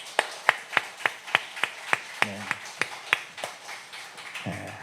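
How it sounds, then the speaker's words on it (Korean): A church congregation claps together in a steady rhythm, sharp even beats about three per second, with short bursts of voices in between. "우리 하나님께 박수 한번 할까요?"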